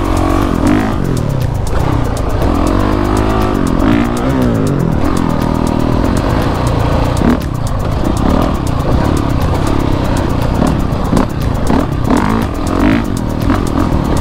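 Motorcycle engine running loudly and continuously while riding, with rising and falling revs and gear changes mixed with wind and road noise.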